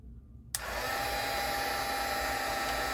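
A heat gun switches on with a click and then blows a steady, loud hiss while it softens a part during a Dual CS-616Q turntable repair.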